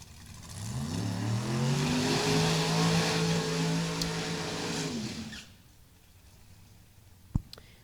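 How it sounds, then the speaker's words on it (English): Two drag racing cars, a Chevrolet Camaro and a Ford Mustang, roar loudly together on a qualifying run for about five seconds with rising engine pitch, then cut away to quiet, with a brief sharp click near the end. "Chevrolet and the Ford, Mustang and Camaro here with their second qualifying efforts."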